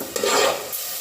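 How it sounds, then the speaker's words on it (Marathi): Coconut paste being sautéed in a pan for appe: a brief, close scraping stir with a soft sizzle, lasting about a second. "खोबऱ्याची पेस्ट केली ती मी घालत आहे. एक दोन मिनिटं खोबरे आपण परतून घेऊया."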